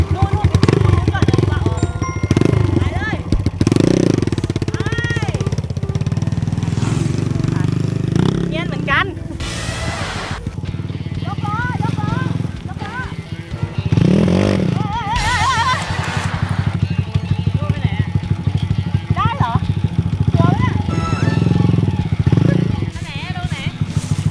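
Enduro motorcycle engine idling and revving nearby, a steady rumble running throughout under frequent talking by several people.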